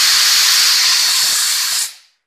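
A steel pressure cooker vents steam after its whistles, a loud, steady broadband hiss that holds for nearly two seconds and then quickly fades to silence.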